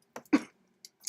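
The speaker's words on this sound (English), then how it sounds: "sorry, I'm coughing so bad again" One short, rough cough followed by a quick second burst, close and fairly quiet, with near silence afterward.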